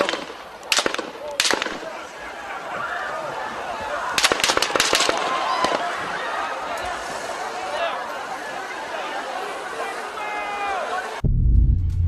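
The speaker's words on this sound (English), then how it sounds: "As the gunfire rang out, rally-goers shouted," Gunfire during the assassination attempt at a Trump rally, with several sharp shots near the start and a cluster of bangs mid-clip over a constant roar of crowd shouting and screaming outdoors.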